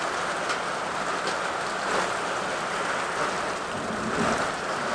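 Hail and rain fall in a steady, dense patter that fills the whole stretch evenly, loud and close, with no voices.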